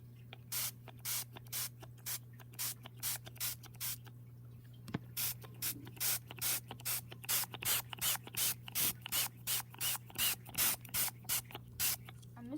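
A trigger spray bottle mists an isopod breeder enclosure with leaf litter in rapid, close, even bursts, about two dozen squirts with a brief pause partway, over a low steady hum.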